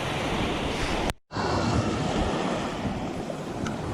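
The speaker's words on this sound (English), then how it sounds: "That was right in the surf, right where the waves crash" Ocean waves crash in the surf with a loud, continuous roar and hiss, close by, briefly cut by a moment of silence before the rushing water resumes.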